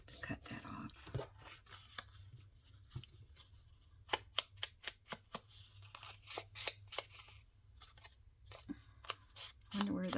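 Scissors snip through junk-mail paper for a junk journal, a run of quick, close, crisp cuts clustered in bursts with quiet rustling between, fairly faint overall.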